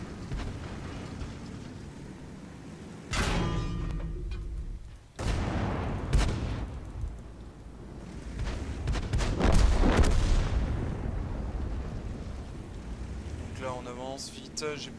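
Tank cannon fire in World of Tanks: several heavy booming shots at irregular intervals, loud and close, over a continuous rumbling engine and ambient bed, with a voice talking at times.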